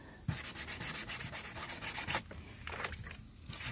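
Wet sanding of a scratch in car paint with 400-grit sandpaper makes rhythmic back-and-forth strokes, soft and close, about a dozen smooth passes and then a few slower rubs.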